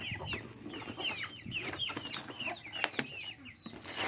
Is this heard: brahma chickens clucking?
yes